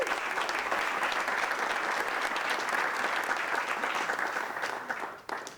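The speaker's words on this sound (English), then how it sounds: "Can we give a round of applause for that?" An audience at a school opening ceremony breaks into sustained, even applause with many hands clapping together, fading slightly toward the end.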